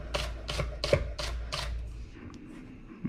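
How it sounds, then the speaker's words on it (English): A knife slicing scallions thin on a cutting board for vegan ramen, with five crisp, evenly spaced chops up close, followed by softer scraping and rustling. "cut them one at a time, but just slice them up nice and thin"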